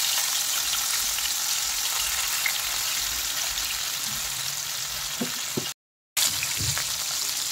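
Mackerel pieces frying in a couple of spoons of oil in a pan on a gas stove, a steady close crackling sizzle with a few louder pops, briefly cut to silence near the end.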